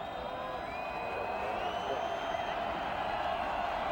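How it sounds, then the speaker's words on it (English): A college football stadium crowd in Provo cheers and roars steadily to fire up the BYU Cougar defense against New Mexico in 2004, a broad, distant wash of noise with no break. "Crowd trying to fire up the Cougar defense."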